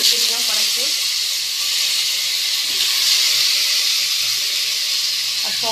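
Wet, turmeric-coated raw banana and potato pieces dropped into hot oil seasoned with black cumin (kalo jeere) hiss loudly and steadily in a kadai, a close, continuous sizzle with a few faint clinks of a utensil.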